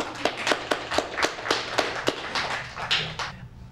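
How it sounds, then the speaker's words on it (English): Scattered clapping from a small audience at a 1996 community poetry reading in the Bayview Branch Library, a series of distinct, evenly spaced claps that thin out and fade toward the end. "let's give Ron Jacam a great round of applause"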